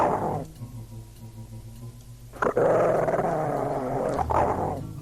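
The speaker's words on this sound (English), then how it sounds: "barking dog." A dog in the Waxworks video game growls low and steadily, then barks loudly in two harsh bursts, close and alone without talk.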